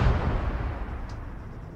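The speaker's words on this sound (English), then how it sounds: "That's an explosion." An explosion in the military game Arma 3 is heard as a deep, rumbling roar that fades steadily over a couple of seconds, with no voices over it.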